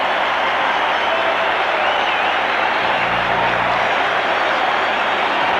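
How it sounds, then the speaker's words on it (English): Steady roar of a standing crowd applauding and cheering for Börje Salming, Sweden's defenceman, at Maple Leaf Gardens during a 1976 Canada Cup ice hockey game, loud and continuous throughout with a low rumble entering midway. "you can hear the applause here at Maple Leaf Gardens for Börje Salming"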